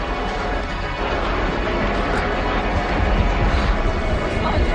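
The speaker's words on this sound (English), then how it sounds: "The train seemed to actually be coming to a stop." Loud, steady rumble of a train in motion as it comes to a stop, broadband mechanical noise filling the space with no clear pause or fade.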